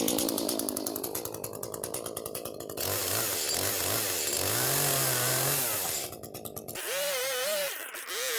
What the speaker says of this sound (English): I'm going to grab the chainsaw and just knock those nubs off